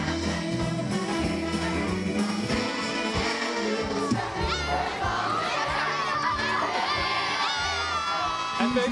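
A crowd of children shouting and cheering at a lively mini choir event during the Leidens Ontzet celebration, continuous and loud with whoops and chatter over music.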